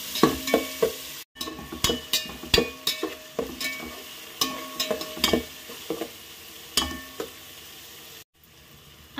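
Onion pieces and green chillies fry with ground cumin in a pan for chicken khichdi, a repeated scraping clatter of stirring in quick bursts over a low sizzle, close and loud with short pauses.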